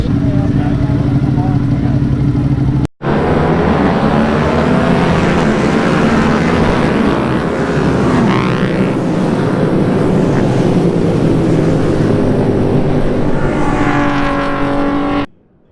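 Racing motorcycles at the MotoAmerica Twins Cup at Barber Motorsports Park in 2019 roar loudly and steadily nearby, a brief cut interrupting the engine din, with wind buffeting and talk mixed in.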